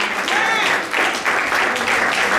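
Dense, steady applause from a crowd at an awards ceremony, a continuous wash of clapping that swells slightly in waves across the whole stretch.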